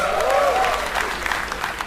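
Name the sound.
audience applause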